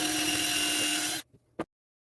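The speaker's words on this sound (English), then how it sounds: "I drilled 2 holes using a 4mm drill bit" A power drill running steadily with a 4mm bit boring a hole into oak, a continuous whine lasting over a second before stopping abruptly, followed by a brief faint click and a short burst.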